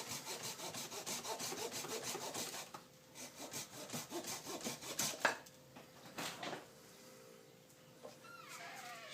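A hand saw cuts an L-shaped chunk out of a bonsai trunk, steady rasping strokes at close range that slow and stop, followed by a few scattered knocks and faint rustling.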